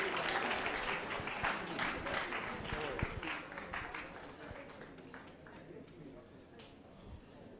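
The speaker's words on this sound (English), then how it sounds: "Please, a resounding round of applause to this, our newly inducted students." A ceremony audience applauding newly inducted veterinary graduates, dense sustained clapping from a large crowd that gradually thins and fades, with voices mixed in underneath.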